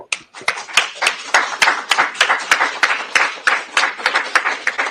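Rhythmic clapping at a press conference about an arrest: sharp, even claps at a brisk steady tempo for several seconds, close and loud, with no one talking over them.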